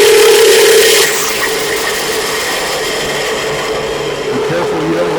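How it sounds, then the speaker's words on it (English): A skew chisel making a planing cut on a pizza handle spinning on a wood lathe, a loud continuous motor hum with a steady shaving hiss that eases slightly after the first second. "Now the skew chisel for a little planing cut."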